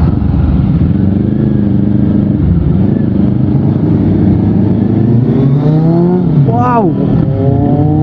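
BMW cars driving past on a road in Lobo, Batangas, with engine drone and rising revs that sweep upward near the end, loud and close, with voices talking over them.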